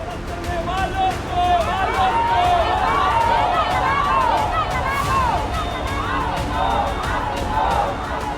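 An angry crowd surrounds a police station in Durg in uproar, a loud, dense babble of many shouting voices that continues throughout with no break.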